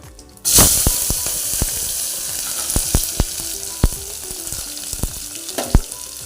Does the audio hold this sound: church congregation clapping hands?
no